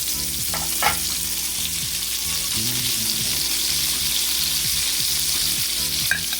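Onion and garlic sizzle steadily in a pan over lowered heat while cabbage is being prepared, with a constant close frying hiss, scattered soft pops and a few light scrapes.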